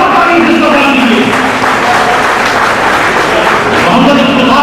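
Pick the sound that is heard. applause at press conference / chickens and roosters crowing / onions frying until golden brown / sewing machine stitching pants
applause at press conference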